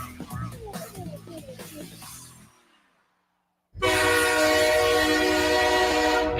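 A train sounds its horn in a burst of sustained blasts over a busy mix, goes briefly silent, then returns as a loud, continuous blaring horn with rumbling rail noise underneath.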